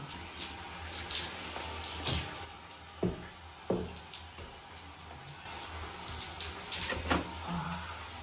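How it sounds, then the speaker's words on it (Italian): Cold tap water running into a sink while hands are washed, a steady close stream with irregular splashes and a few sharper drips, no speech over it. "non apro l'acqua, tanto me le lavo con l'acqua fredda"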